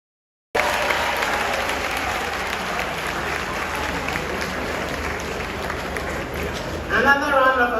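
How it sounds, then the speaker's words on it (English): A large crowd bursts into loud, sustained applause at the launch of Ghana's no-fees education policy with President John Mahama, and the clapping roars on evenly for several seconds before a voice speaks over its close. "Another round of applause, ladies and gentlemen"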